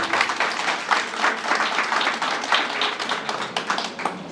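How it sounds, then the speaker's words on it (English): An audience at a cybersecurity awareness launch event gives a hearty round of applause, many hands clapping in a full, lively burst with scattered sharper claps standing out near the end. "Please give them another huge round of applause."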